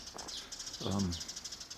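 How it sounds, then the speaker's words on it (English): Birds chirp repeatedly in high, quick twitters beside a farm near a block of houses at about 6:30 in the early morning, steady and fairly close, with a brief low voice murmuring under them midway. "You can hear the birds."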